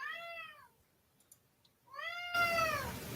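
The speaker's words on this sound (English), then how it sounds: "What is that? A cat?" A cat gives two clear, drawn-out meows separated by a quiet pause, the second one fading into a sudden burst of broadband noise.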